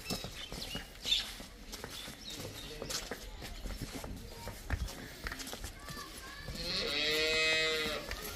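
Cattle at a dairy farm where cows and buffaloes are for sale, including a milking heifer, with a long, loud, close moo near the end over shuffling, hoof clops and faint voices in the background.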